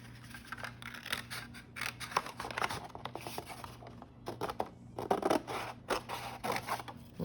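Scissors cut steadily through a paper grid, trimming off unneeded rows, with a close, continuous crunching and snipping texture over a low background hum and no speech.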